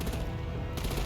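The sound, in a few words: artillery gunfire in a Gotham video game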